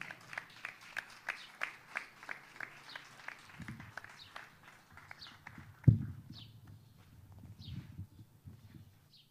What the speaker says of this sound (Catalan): Un fort aplaudiment, sisplau.